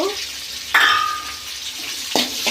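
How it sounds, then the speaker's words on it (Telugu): Onions sizzle and fry in hot oil in a pan with mustard seeds and green chillies for an egg and potato curry, a steady close hiss with a few sharper stirring scrapes and clatters. "ఇవి కొంచెం ఉల్లిగడ్డ అనేటివి కొంచెం బాగా ఫ్రై అవ్వాలా ఈ కలర్ అయ్యేదాకా ఫ్రై చేసుకోవాలండి"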